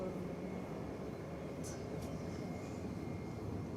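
An American Airlines Boeing 777 approaches DFW Airport, a distant, steady broadband jet roar that fills the whole stretch without voices.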